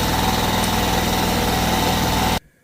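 Air compressor running steadily in a home workshop during a 1950 Farmall Cub engine rebuild, a loud continuous motor drone with vibration that stops abruptly near the end.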